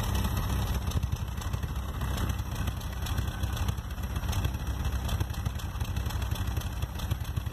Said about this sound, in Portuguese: Ele tá com falha em algum cilindro, falha de ignição ou falha de injeção.